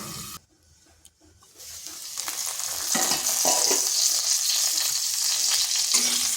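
Potatoes fry in a pan, a steady close sizzle that swells and holds loud after a short quiet start, with scraping stirs breaking through now and then; no one talks.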